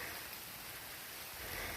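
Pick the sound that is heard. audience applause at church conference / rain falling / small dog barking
rain falling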